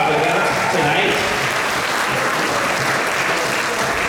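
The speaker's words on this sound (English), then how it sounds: "let us also give a round of applause to our newlyweds here" Loud, dense applause from a crowd at a wedding reception fills the whole stretch, an even wash of clapping with voices mixed in beneath.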